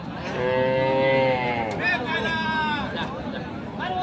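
A Sahiwal cow moos loudly and close at a busy cattle market in Dinajpur, one long drawn-out call with a second shorter one, over a background of crowd chatter and nearby talking.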